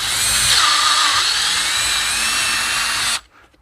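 Power drill boring through a sewer-pipe drum shell: one loud continuous whirring whine that holds steady for about three seconds, then stops sharply.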